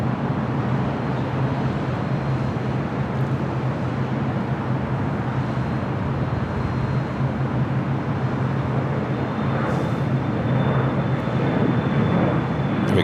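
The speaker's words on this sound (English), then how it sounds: "Sun Country Airlines Flight 8711 heading to Portland. It's more than likely a sports charter 737-800." A Sun Country Airlines Boeing 737-800 jet at LAX gives a steady, broad engine roar that holds evenly throughout, with no voices.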